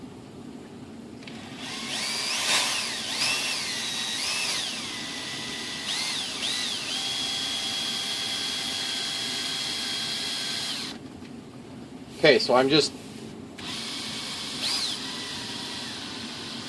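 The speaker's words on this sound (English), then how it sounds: "So now at this point, I can go and switch my drill back the other way." A power drill bores through the foam of a model Spitfire wing with a sustained whirring drone whose pitch rises and falls as the bit cuts, broken by a brief louder burst near the end, while someone speaks briefly.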